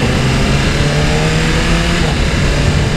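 A 2024 BMW S1000RR superbike in race mode holds a loud, close, continuous engine roar, its pitch steady with slight wavering, filling the whole stretch without any talk.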